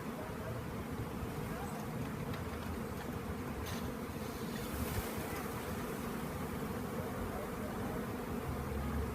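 A honey bee swarm buzzes as a dense continuous drone, loud and close throughout with no break.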